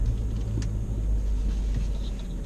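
BMW F30 335i with a turbocharged engine accelerating, heard as a steady low rumble from inside the car with little change over a few seconds and no talking.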